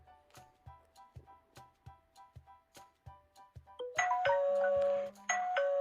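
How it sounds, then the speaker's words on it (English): A Ctronics wireless video doorbell indoor unit rings out a loud, sustained electronic chime melody, preceded by a steady series of soft rhythmic ticks, close and clear with no talking. "I'm awaiting for Tanya to ring the doorbell"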